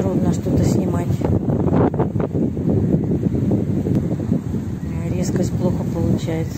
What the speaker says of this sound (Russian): Да, на таком ветру трудно что-то снимать.